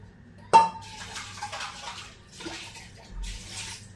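A metal cooking pot for kolambi (prawn) curry is handled close by, opening with a sharp clank followed by scraping, rattling bursts and a brief splash of water, with no talk.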